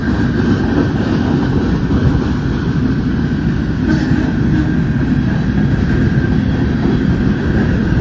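Southern Pacific freight train rolling past in Fremont, Nebraska, a steady, loud rumble of railcars and wheels on track with faint clickety-clack, continuous and close throughout.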